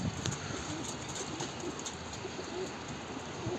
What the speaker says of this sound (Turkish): Hala tepede kuşlarım var arkadaşlar